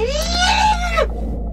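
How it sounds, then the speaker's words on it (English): A heavily processed human scream used as monster sound design for Dead Space 3, a single warped, harmonic wail with bending pitch over a low droning rumble, cutting off abruptly near the end. "I started with a pretty heavily manipulated sample of one of my coworkers screaming down in our recording room"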